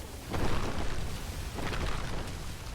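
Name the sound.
fire earthquake spell exploding in the video game Spellbreak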